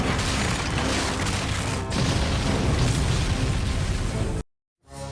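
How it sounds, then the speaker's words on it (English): Huge magical explosion in a My Little Pony: Twilight's Kingdom storybook app as two magic beams collide: a loud, sustained booming roar that fills several seconds, then cuts abruptly to silence before a brief swell returns. "Tirek fired back, and the beams erupted into a huge magical explosion."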